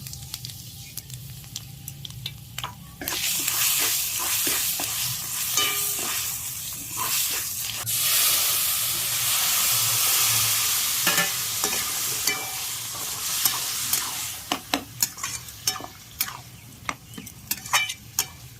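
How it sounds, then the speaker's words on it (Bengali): Panch phoron, a five-spice mix, hits hot oil and bursts into a loud, close sizzle, followed by crackling and scraping stirring that tapers into sporadic pops. "তেল গরম হয়ে গেছে, 5 ফোড়ন দিয়ে দিলাম।"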